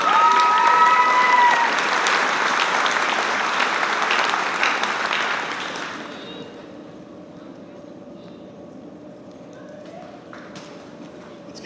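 Sustained audience applause at a school eighth grade awards ceremony, steady and loud for about six seconds before thinning to scattered clapping and a quiet room.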